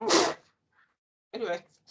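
A single loud, close sneeze bursts out at the start, followed after a short pause by a person speaking briefly.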